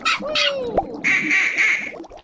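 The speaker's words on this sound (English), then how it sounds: "And it's a duck." A duck quacks loudly and close in a children's letter-guessing game, with a few rapid calls at the start followed by a longer, harsh nasal quack.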